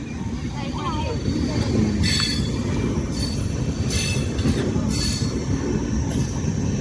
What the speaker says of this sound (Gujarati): તો કાંઈ જો કેટલી લોબી રેલ ગાડી